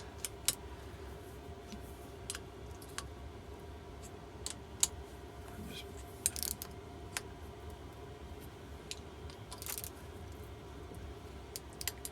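A wrench nips up cylinder head bolts on a Keeway TX125 motorcycle, making faint, scattered clicks and ticks at irregular intervals over a quiet background, with no talking.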